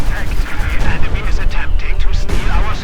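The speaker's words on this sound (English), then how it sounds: "More field gun firing." Field gun fire in a Company of Heroes 2 match, with dense overlapping booms and battlefield rumble continuing throughout, while a commentator's voice runs over it.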